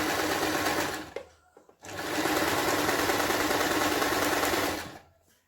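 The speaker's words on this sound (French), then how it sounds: "quand j'essaye de coudre droit, parce que même ça, j'arrive pas. Oh, quoique le tissu, il va tout seul quand même." A sewing machine stitching fabric for homemade makeup remover wipes runs in two loud, steady bursts of rapid mechanical whirring, separated by a brief pause, close up with no talking.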